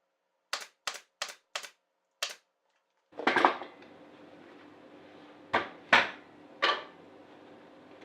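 A staple gun fires five sharp snaps in quick succession while stapling fabric onto a wooden headboard, then a rustle of handling and three more louder shots, close by with no talking.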